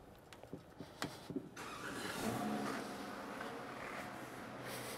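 Inside a garage, a few faint clicks and taps come first, then a car engine turns over and settles into a steady, low idle that continues quietly to the end.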